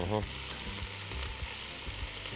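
Meat frying in a pan with a big spoonful of honey added to caramelize, for a honey meat and vegetable stew; a steady close sizzle with a few scraping stirs, no talking.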